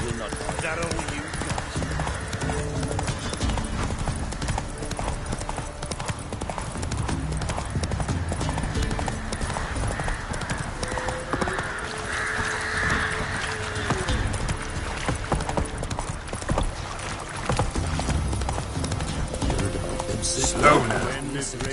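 A horse galloping in The Witcher 3, a constant drumming of hooves beneath game music and spoken dialogue, with occasional snorts and a louder moment near the end.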